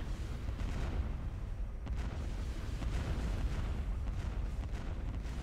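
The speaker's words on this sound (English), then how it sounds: "Getting bombarded heavily there." Heavy bombardment in the space strategy game Star Wars Empire at War, a dense continuous rumble of booming explosions with scattered sharper blasts and no pauses.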